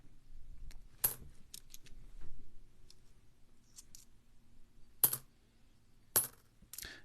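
Five cent coins clink and jingle in sharp, bright bursts while being sorted by hand, with scattered small clicks between louder chimes over a quiet background.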